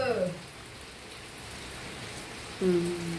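Steady, moderate rain falls outdoors as a soft, even hiss throughout, with brief voices speaking over it at the start and near the end.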